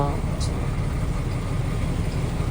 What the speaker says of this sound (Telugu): మా బస్సు వచ్చేసి కొంచెం వెనకాలకి తీసుకెళ్తున్నాము